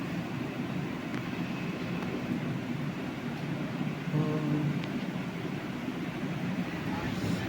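The Guruvayur–Thrissur passenger train pulls out of Guruvayur station with a continuous low rumble and steady rolling noise, heard from on board and moderately loud.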